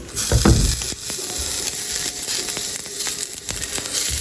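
An omelette sizzles and fries steadily in a stainless steel pan, with a louder burst of spattering as it is flipped near the start, followed by continuous crackling frying and faint scraping clinks.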